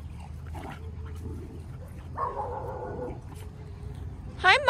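Dogs play at a dog park with soft whines, yips and a brief sharp yelp over a low rumbling background.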